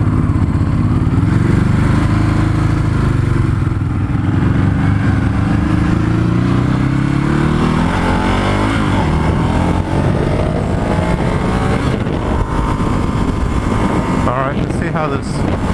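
A Ducati Hypermotard motorcycle rides on a freeway near Concord, California. A loud, continuous roar of engine and road noise fills the clip, and the engine pitch rises and falls midway through.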